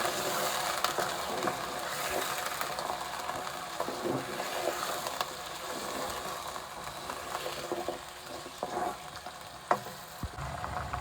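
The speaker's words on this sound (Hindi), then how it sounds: "एक मिनट तक गोश्त को अच्छी तरह भून लेते हैं।" Meat (gosht) frying in a pot for a turnip and meat curry, a steady close sizzle with scraping stir strokes and occasional clinks running throughout, no voices.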